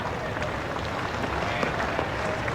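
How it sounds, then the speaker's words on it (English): An Adelaide Test cricket crowd gives a steady round of applause, a broad wash of clapping from a large stadium audience, fairly even throughout. "Generous round of applause from this very knowledgeable Adelaide crowd."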